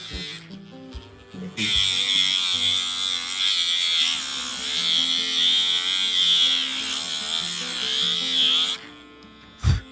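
Electric nail grinder trims a Shih Tzu's nails during home grooming, a bright steady high-pitched whir running for most of the stretch, wavering slightly as it presses on the nail, with short quiet gaps at the start and end.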